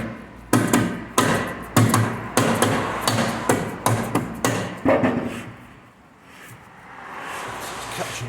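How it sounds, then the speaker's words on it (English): A hammer taps a rear brake part during a brake upgrade on a SAAB 9-3, about a dozen sharp, close metallic strikes in a steady rhythm, then quieter workshop sounds. "So just give it a tap with a hammer."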